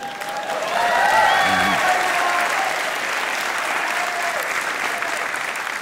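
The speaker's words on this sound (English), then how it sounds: "So if you could give me lots of applause" Sustained audience applause rises and holds as an even crowd roar, with a faint voice and some tonal sound briefly audible beneath the clapping.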